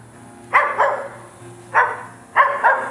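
A dog barks three times at a distance, each a short pair of yelps, over a faint steady hum.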